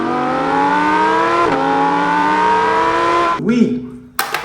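A Lamborghini race car engine revs in a long, rising whine that climbs steadily, dips once, then breaks into a squealing swoop before a sharp cutoff, heard loud and close as a toy car effect.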